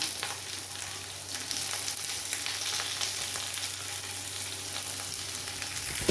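Garlic, ginger, chili and onion frying in a hot pan for an egg and soybean masala curry, a loud, dense, steady sizzle with faint stirring, close by and without speech.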